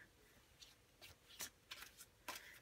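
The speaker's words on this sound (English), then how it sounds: "I'm going to just do a quick shuffle." A deck of tarot cards is shuffled quickly by hand, giving a few short, crisp riffling bursts. It is very quiet and close, with no talking over it.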